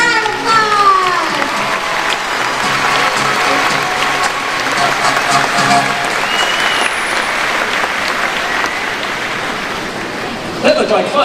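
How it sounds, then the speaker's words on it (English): Audience at a Sea World Shamu killer whale show breaks into loud, sustained applause, a dense crowd of clapping with cheers and voices mixed in, continuing steadily throughout. "let's give them all a big round of applause!"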